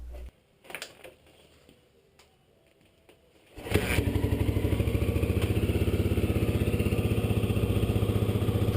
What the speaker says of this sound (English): we'll start the bike, run it for 2 minutes, and then turn the bike off and let it cool for 2 minutes